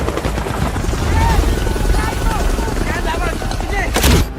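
Extraction helicopter in an action film battle scene, its steady rotor roar filling the mix beneath rapid gunfire bursts and shouted voices, with a sharp loud crack near the end.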